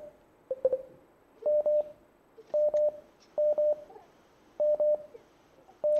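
A telephone dials for an incoming call on a radio broadcast: steady groups of clipped electronic tone bursts repeat in an even rhythm, clear and fairly loud, with a few faint clicks between them.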